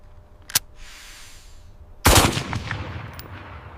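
Shots fired at a wild boar on a farm: one sharp crack, then after a pause a louder blast with a ringing, echoing tail.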